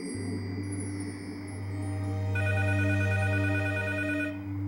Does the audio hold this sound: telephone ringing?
yes